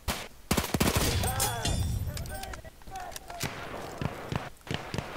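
Automatico M1918 submachine gun firing in a Battlefield 1 multiplayer match: sharp, close bursts of automatic fire with scattered shots and game clatter, mixed with voices.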